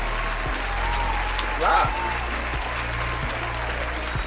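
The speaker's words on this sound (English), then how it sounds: "So give me a round of applause, goddamn." A round of applause during a wrestling talk show, with steady clapping filling the background while a single word is spoken near the start.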